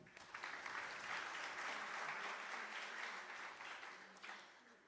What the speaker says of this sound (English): Please give a huge round of applause for everyone.